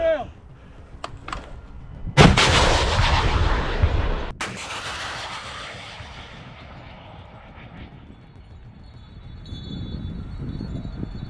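Heavy artillery gun fires a shot at a military position: a sharp, loud blast hits, then a second crack follows, and long rumbling echoes roll away into the distance over faint outdoor background noise.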